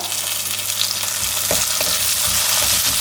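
Garlic, green chili, crushed shallots and curry leaves fry in hot oil for an Alleppey-style fish curry, giving a loud, continuous close sizzle with a few soft stirring knocks underneath.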